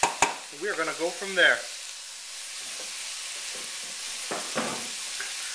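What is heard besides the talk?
smoky mixture cooking down in a pan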